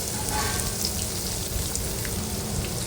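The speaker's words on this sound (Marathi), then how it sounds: "कांदा टाकायचा बारीक चिरलेला" Finely chopped onion hits a hot pan with hing and garlic for a mixed dal and potato dish, giving a steady, dense sizzle and crackle that holds close and even throughout with no voices.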